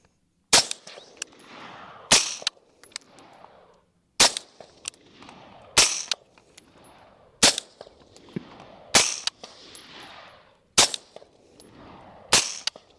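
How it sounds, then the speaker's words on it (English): A suppressed Troy 10-inch AR pistol fires about eight spaced shots, each a sharp loud crack with a short ringing tail, evenly paced over several seconds outdoors. "I'm going to show you the other portion of the clip where I'm shooting the black AR instead of this Daniel Defense there"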